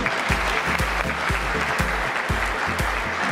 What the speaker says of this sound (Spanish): Un aplauso para este panel.